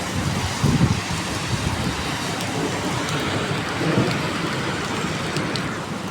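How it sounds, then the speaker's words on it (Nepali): Heavy rain pours down in Saudi Arabia in a steady, dense roar, with faint rumbles of thunder and gusts of wind beneath it and no voices. "एकदम पानी परिरहेको छ।"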